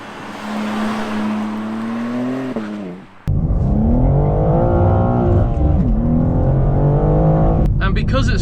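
A turbocharged BMW G87 M2 pulls hard with a rising engine note, cuts out briefly at a gear change, then revs strongly again in second gear through a bend. The engine is loud and close.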